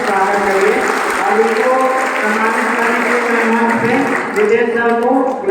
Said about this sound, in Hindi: तो इनके लिए भी एक बार जोरदार ताली से हम लोग स्वागत करिए